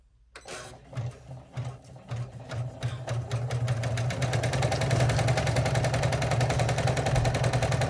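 Embroidery machine stitching a jelly vinyl pouch with a 100 needle, giving a steady rapid mechanical chatter that starts as spaced bursts and settles into continuous close, fairly loud stitching.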